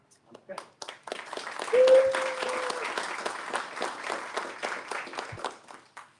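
An audience at a comic awards ceremony breaks into scattered clapping that swells into steady applause, fairly close and clear in a quiet indoor hall, with a brief squeaky tone partway through.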